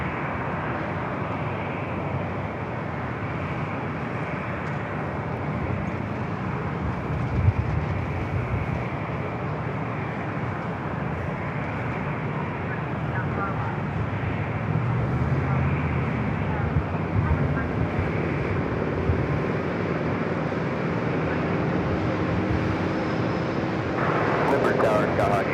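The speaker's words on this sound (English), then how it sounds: "Looks like we have another Osprey." A V-22 Osprey tiltrotor at San Diego airport gives a broad, droning rumble that holds steady throughout, with voices talking over it.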